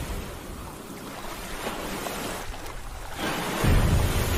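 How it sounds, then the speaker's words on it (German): In a video game, a whale leaps from the ocean and crashes back in, heard as rolling surf and wind that builds into a louder, low whooshing splash near the end. "hier sehen wir wieder einen Wal, der einfach mal herausspringt aus dem Wasser und wieder hereinspringt"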